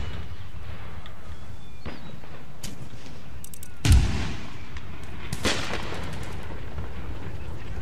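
Musket volleys and artillery fire from a battle in the strategy game Empire: Total War, with scattered distant shots and a sharp, louder boom near the middle over a steady battlefield rumble.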